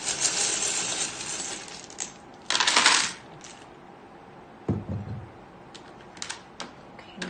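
Tarot reading charms are cast onto a surface, landing in a burst of bright metallic clinks and rattles, followed by a few scattered lighter taps and settling clicks.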